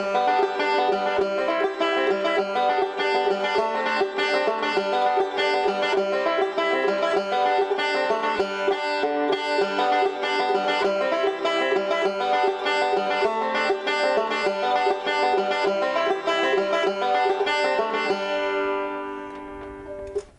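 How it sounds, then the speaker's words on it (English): A banjo plays a fast forward-backward roll over a chord progression, with a continuous rippling stream of bright plucked notes at an even tempo, played solo before it fades out near the end. "now we're going to add the banjo roll, which sounds like this"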